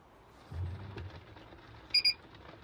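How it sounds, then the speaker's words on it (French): Two short, high electronic beeps in quick succession from an automatic satellite dish signalling it is correctly pointed, clear over a low background hum. "Le double bip nous indique que la parabole est correctement pointée"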